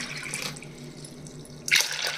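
Water poured from a glass onto soaked chana dal in a kitchen: a soft trickle early, then a sudden louder splashing pour near the end, close by, with no talk.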